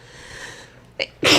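A single sharp human sneeze bursts out loudly at the end, preceded by a faint sniffing intake of breath against a quiet background.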